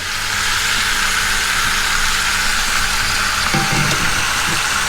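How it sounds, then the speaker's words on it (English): Chicken wings searing in a hot pan, a loud, steady, close sizzle that holds without a break, with a few soft stirring knocks near the end. "Just kind of searing everything down for a little bit."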